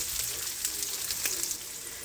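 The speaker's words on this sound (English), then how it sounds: "Put on my onions when they're frying." Onions sizzle and crackle in a hot pan, a bright steady frying hiss with small pops, close and fairly loud.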